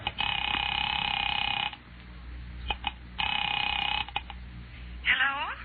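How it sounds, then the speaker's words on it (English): A telephone receiver is lifted and a number dialed in an old-time mystery radio drama, with two long steady tone bursts, a few faint clicks between them and a brief rising whirl at the end, heard alone. "Picking it up quietly, I dialed my daughter's number, Alec Bartlett's wife."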